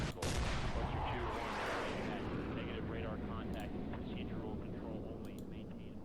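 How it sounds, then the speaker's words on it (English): Gunfire and explosive bursts from a naval gunfight in the strategy game Command: South China Sea, a dense, continuous roar of blasts and rattling fire that holds steady for several seconds with a few sharp cracks on top. "let's see how that gunfight is going to turn out"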